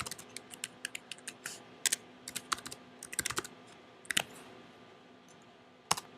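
Fingers type a password on a computer keyboard to log in, a quiet run of quick irregular key clicks with a few louder strikes and short pauses, close and alone.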